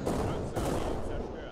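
Tank cannon fire in the video game Tank Operation European Campaign, a heavy blast at the start followed by a second boom midway, with rumbling battle noise throughout.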